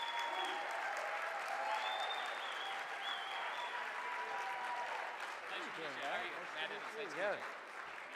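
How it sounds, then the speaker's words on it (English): Luncheon audience gives a round of applause, a steady, fairly quiet wash of clapping from a crowd heard at a distance, with voices and some tonal sounds rising over it near the end. "How about a nice round of applause, Matt Evans?"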